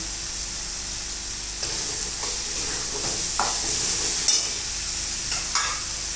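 Masala spices frying in oil for a potato dish, giving a steady close sizzle with occasional stirring scrapes and brief crackles, no voices.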